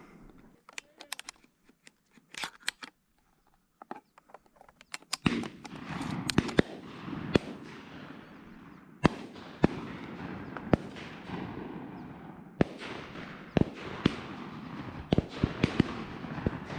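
Distant shotgun shots from a South Georgia dove hunt pop irregularly across a quiet field, some faint and others sharper, scattered one at a time over a low background hiss.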